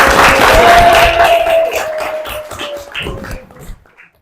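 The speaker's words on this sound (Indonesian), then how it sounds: "Tepuk tangan." Students in a biology classroom at MA Alif Laam Miim Surabaya clap together in a loud burst of applause that thins out and fades within a few seconds.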